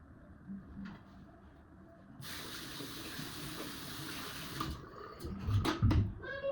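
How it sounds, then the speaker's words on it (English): Shower water running in a home bathroom, a steady broadband hiss that starts abruptly partway through and carries on with a few splashy bursts and clatters near the end, with no voices. "Then I'll just rinse it off in the shower."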